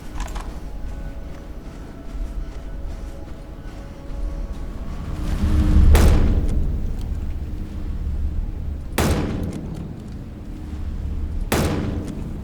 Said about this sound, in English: it's time to get my rifle out